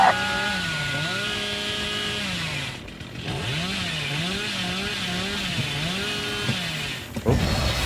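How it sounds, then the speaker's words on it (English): A chainsaw in the video game Dead by Daylight revs loudly and close, its engine pitch rising and falling in repeated surges. There is a short dip in the middle and a sharp burst near the end. "you can't outrun the chainsaw"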